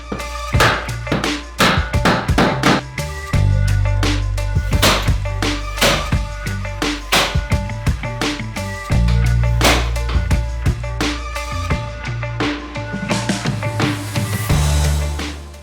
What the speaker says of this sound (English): You just need to hammer it.